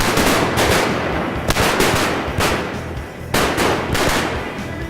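Rapid bursts of gunfire crack out during a hunt on public land, loud and close, arriving in several clustered volleys with brief pauses between them.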